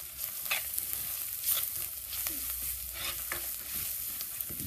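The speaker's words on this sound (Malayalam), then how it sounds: "ഇപ്പം ഒന്ന് പതുക്കെ വഴന്നു കിട്ടുന്ന വരെ നമുക്ക് ഇളക്കി കൊടുക്കാം." Sautéed onions with coriander powder are stirred in a pan, a spoon scraping and knocking at irregular intervals over a steady sizzle, close and moderately loud.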